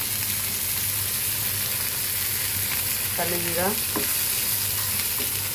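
A few nigella seeds (kalo jira) fry in hot oil with a constant crackling sizzle close up. A brief voice-like whine rises and falls midway.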